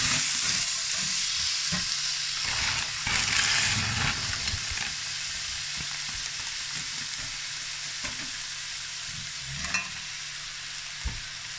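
Mushrooms sizzle in a hot pan with caramelized onions for beef burger steak, a steady frying hiss broken by scraping stirs and occasional clacks of the utensil against the pan.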